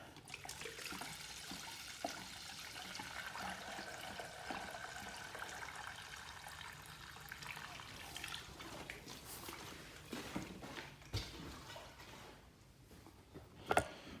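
Water from a gas can pours steadily into a funnel in a car cooling system with a soft, continuous splashing trickle, fairly quiet and close, with a few small knocks near the end.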